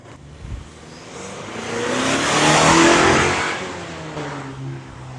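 A redesigned Chevy Colorado pickup truck is under way, its engine note swelling as it accelerates, peaking mid-way, then easing off over steady road and wind noise, with no talking.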